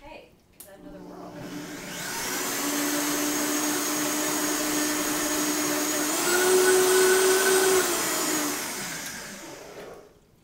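A countertop blender whirs through a carob mint smoothie with mint leaves, a loud steady motor roar that ramps up, shifts pitch partway as the load changes, then spins down, with a voice briefly before it starts.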